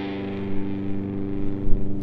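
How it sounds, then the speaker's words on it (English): Sustained, heavily fuzzed electric guitar tones ring out thick and buzzy, droning steadily with little change for about two seconds, from a riff. "Not just plain distortion, it's added with the fuzz."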